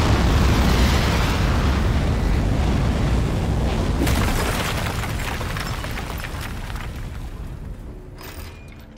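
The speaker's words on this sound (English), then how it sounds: "3, 2, 1. We have liftoff." A rocket lifts off in the game Aperture Desk Job with a loud, continuous roaring rumble that starts at full strength and slowly fades over several seconds.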